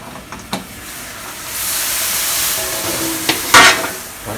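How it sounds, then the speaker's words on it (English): Steam hisses from a wok of boiling water used to steam a homemade egg tofu mixture, a loud rushing wash that swells midway, with a few sharp clicks and knocks of the lid or foil nearby. "In a pot of boiling water or wok of boiling water, we will steam the egg mixture."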